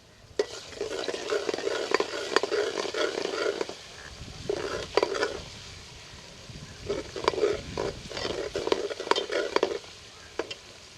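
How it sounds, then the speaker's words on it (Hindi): Ginger garlic paste frying with already fried onions in a pan for kadhi pakora, loud continuous sizzling broken by bursts of spoon stirring and scraping, close up with no talking. "अब 1 चम्मच मेरे पास है ना अदरक लहसुन का पेस्ट है। 1 मिनट के लिए इसे भून लेंगे।"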